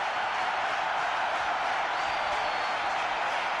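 A large cricket stadium crowd at a one-day international in Karachi roars in a steady, dense cheer that holds at the same level throughout, with no distinct voices standing out.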